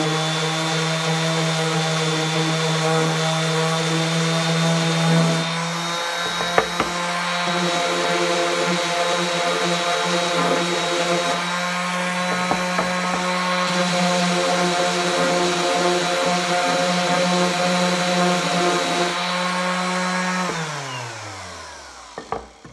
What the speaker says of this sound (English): I'm going to just take the orbital sander and just shave a little bit of wood off.